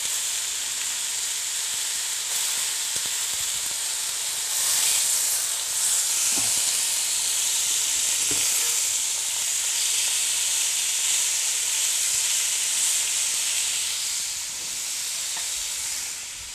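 A lamb leg roast sears in a hot pan, giving a steady, close, loud hiss and crackle of sizzling fat that continues without pause, with an occasional faint knock of the pan and no speech.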